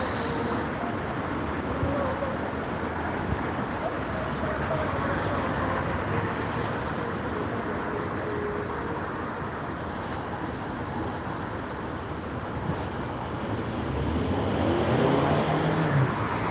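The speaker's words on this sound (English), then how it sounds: "Alexander Spa 400 by Scanian 230D number 15856 arriving in" Alexander Spa 400 single-decker bus on a Scania chassis pulling in at a Gloucester roadside stop, a steady near engine drone among traffic rumble that swells toward the end, with faint voices under it.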